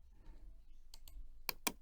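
Two sharp mouse clicks, close and fairly loud, land near the end after a couple of softer clicks, used to right-click and delete in music production software while making a Lekompo drum pattern.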